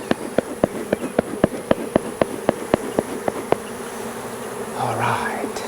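Honey bees buzzing around an opened hive during an inspection, a steady hum under a regular series of sharp ticks or taps that stop partway, followed by a brief rustle.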